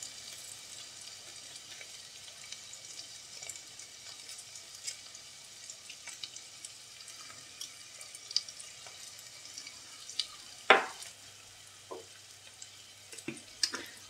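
Onion softening in a hot pan gives a soft, fairly quiet sizzle that persists throughout, broken by a few sharp utensil clicks and knocks near the end, with no talking.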